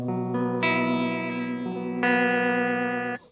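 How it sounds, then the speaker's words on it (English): An electric guitar chord through a Fender vibrato pedal, with a wavering vibrato effect, strummed twice and left to ring, loud and up close. "Vibrato-esque chord."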